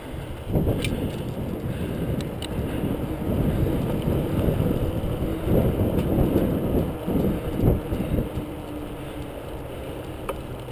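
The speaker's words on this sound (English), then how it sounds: "Kind of windy this morning." Steady morning wind on a Freeman Lake trail ride buffets the microphone with a low, rumbling roar that gusts and swells throughout, loud and close.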